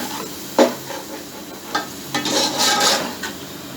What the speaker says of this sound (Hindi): दही के साथ इसकी भुनाई मैं कर रहा हूँ।